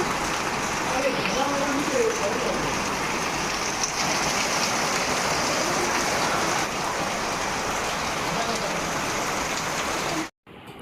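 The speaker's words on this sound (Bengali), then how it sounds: "এদিকে দেখো ধরা বৃষ্টি নেমে গেছে" Heavy rain pours in a steady, loud roar close by, with splashing on surfaces for several seconds before the sound cuts out abruptly near the end.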